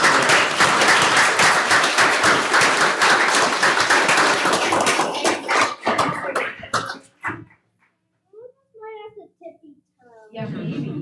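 A room of people claps steadily for students at a school governing board meeting, with dense applause for about five seconds before it thins into a few claps, followed by scattered voices and quiet talk.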